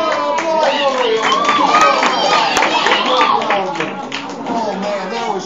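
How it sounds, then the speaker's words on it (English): Children and adults at a Hanukkah party magic show clap and shout excitedly, a loud, lively mix of clapping and high voices with cheering. "I want a big one of applause over here"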